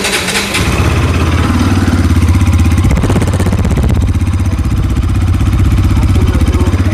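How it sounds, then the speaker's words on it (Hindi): Bajaj Pulsar RS200 motorcycle with a full bass exhaust, revved after a brief start: a steady deep throbbing note close by, loud and continuous for about seven seconds, with no talk over it. "एग्जॉस्ट साउंड सुनते हैं तो अभी एग्जॉस्ट साउंड सुना के"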